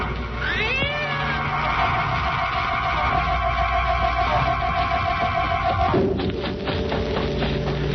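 A cat meows several times in a foggy setting, drawn-out rising and wavering cries heard clearly over a steady background rumble and other low ambient noise.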